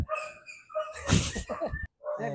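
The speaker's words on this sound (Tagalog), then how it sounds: "May aso." A dog gives a short, loud bark-like yelp in the middle, with quieter whimpering sounds and a person's voice around it.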